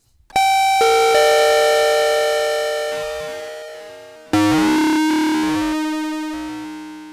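Bright synthesizer tones with rich, buzzy harmonics; a sustained note fades, then a second note sweeps and wobbles in pitch as its modulation shifts.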